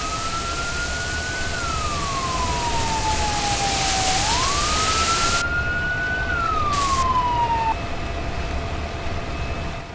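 An emergency vehicle siren in the Roblox game ER:LC wails as the unit responds, a single rising and falling tone sweeping slowly over steady rumbling background noise, clear and prominent with no talking.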